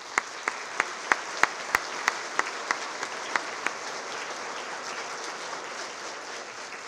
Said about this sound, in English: Can we please give them a round of applause and thank them?